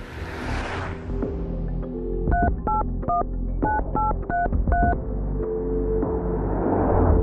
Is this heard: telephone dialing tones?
yes